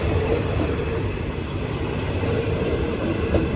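A passenger train rumbles past close by with a steady rolling roar and faint clickety-clack of wheels on rails, heard alone without voices.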